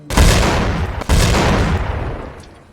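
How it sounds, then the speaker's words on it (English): An overpowered shotgun in the game Garry's Mod fires massive explosions: two loud, booming blasts roughly a second apart, each with a long rumbling tail that fades out, heard alone. "This one is my favorite overpowered shotgun because it can create massive explosions."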